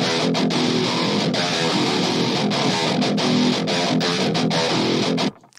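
Heavy, aggressive distorted metal guitar riff in a DOOM-style production, dense and loud with tight chugging rhythm and sharp cuts, playing continuously before stopping abruptly near the end.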